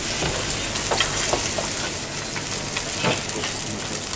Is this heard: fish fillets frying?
yes